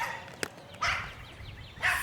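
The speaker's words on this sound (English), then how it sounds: "We have a beautiful dog that's passing by" Dog passing by outdoors, giving two short barks about a second apart, fairly close and alone with no talk.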